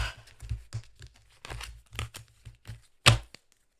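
Tarot cards being gathered up by hand, a quick series of papery crinkles, slaps and shuffles, close and fairly crisp, ending in one sharper snap before falling quiet.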